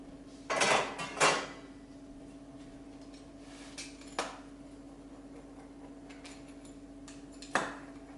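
Hot margherita pizza being cut on a board: two quick clattering strikes close together at the start, then isolated sharp knocks later, with near silence between them.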